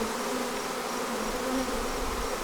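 A swarm of honeybees buzzes in a steady, dense drone as many bees fly in from the air and land on a jammed cluster, close and continuous with no talk.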